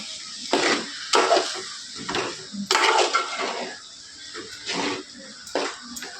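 Mutton rakti being stirred in a cooking pot, with a series of scraping, clattering spoon-on-metal strokes in irregular bursts, close and moderately loud, with no one talking.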